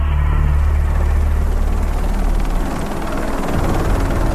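A Black Hawk military helicopter thunders loudly and steadily, heavy rotor rumble dominating throughout with no voices.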